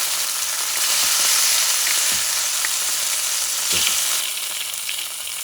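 Breaded kangaroo frying in a pan, a steady, loud sizzle that holds for the whole stretch, with a few soft clicks and knocks of the pan now and then and no voices.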